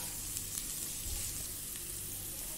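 Garlic and ginger sizzle in hot olive oil and ghee in a pan, a steady close crackling hiss with small pops, continuous and moderately soft with no voices.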